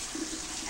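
Water runs from a tap while orchids and other houseplants are watered at home, a brief steady hiss of flow at moderate level with no talk.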